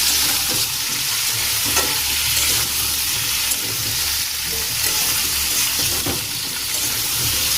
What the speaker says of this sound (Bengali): এটা ভাজবো লবণ হলুদ দিয়ে সুন্দর করে আগে একটু ভাজবো